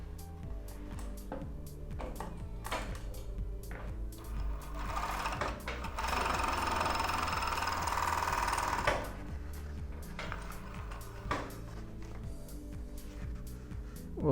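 Overlock serger machine stitching, with intermittent mechanical clicks and handling, then a steady loud run of the motor and needles for about three seconds before it stops.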